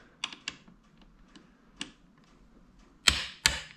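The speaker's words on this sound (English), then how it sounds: "There's my click." Small sharp clicks from a Scotts steering damper adjuster on a Ducati Hypermotard 1100, a few faint ticks early on, then two louder, closer snaps near the end with short ringing tails, no voices.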